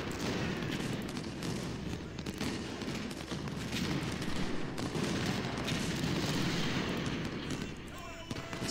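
Musket fusillade in the Civil War strategy game Ultimate General: Civil War, Battle of Shiloh: a continuous, dense roar of massed distant volleys and crackling rifle fire, steady in loudness throughout.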